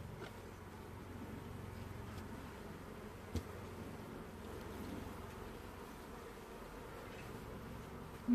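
Honeybees hum inside a hive just after two boxes were united, a soft, steady droning buzz that holds evenly throughout with no voices.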